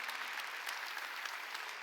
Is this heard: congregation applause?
yes